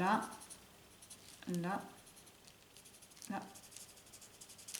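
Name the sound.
colouring on paper with ink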